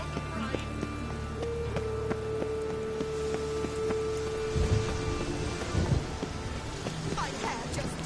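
Rain pours steadily and thunder rumbles low in a Witcher 3 game scene set in Novigrad, with characters talking over the storm.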